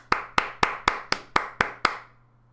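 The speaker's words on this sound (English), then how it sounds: "clap your hands." A single person clapping hands eight times in an even, quick rhythm, each clap sharp and close with a short ringing tail in a quiet room, then silence.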